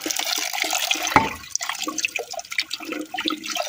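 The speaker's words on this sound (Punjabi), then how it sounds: "ਮੈਂ ਕੁੰਡੀ ਡੰਡੇ ਨੂੰ ਪਾਣੀ ਮਾਰ ਲਵਾਂ।" Water is splashed over a stone mortar and pestle, making an uneven wet rush and patter close by, with one sharp knock partway through.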